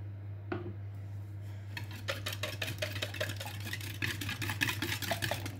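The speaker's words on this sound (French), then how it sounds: "je vais prendre mon fouet, parce qu'il n'y a rien de mieux que le fouet métallique" A flat metal anti-lump whisk beats chocolate fondant batter in a Tupperware microcook pitcher, giving fast, rhythmic scraping clicks against the container, close and continuous after a single knock at the start, over a low steady hum.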